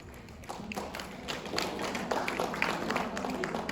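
Assembly audience claps at the close of a general assembly, scattered hand claps building from sparse taps into fuller applause, moderately near with some thuds and murmuring.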